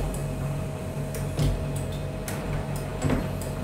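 A printer hums steadily during its first boot after being connected by cable, its internal rollers turning with faint periodic ticks and clicks and brief louder mechanical bursts, close up and with no voices.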